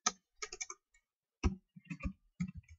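Computer keyboard keys tapped in short irregular clusters as a web address is entered, soft close clicks separated by brief pauses, no talking.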